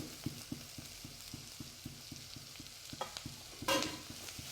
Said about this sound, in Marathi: भाजी तीन ते चार मिनटं व्यवस्थित परतून घ्यायची आहे